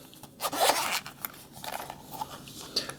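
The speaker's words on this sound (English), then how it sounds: "You simply unzip it" Zipper on a hard shell case being pulled open, a close raspy zip in short bursts with a few pauses and small clicks in between.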